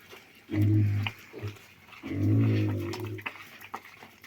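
Two low, drawn-out grunts from a Vietnamese pot-bellied pig, close by, with snuffling and small clicks between them and no talking.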